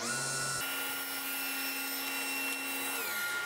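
A table saw fitted with an adjustable hexagon cutting jig runs through its first cut on a wood blank, giving a steady, close mechanical whine that shifts pitch early on and then holds evenly.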